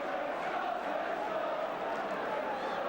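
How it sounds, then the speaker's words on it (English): A steady, distant roar from a 1981 football match crowd, a broad wash of voices and cheering that holds level throughout with no break. "the crowd has come to life."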